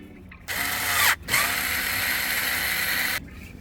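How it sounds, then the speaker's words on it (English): Power screwdriver backing out Torx 20 screws from a Mercedes C-Class W204 parking brake assembly, two close, loud whirring bursts with a brief pause between them, and no talk. "need to release 3 screws, 1, 2, 3, with a Torx 20"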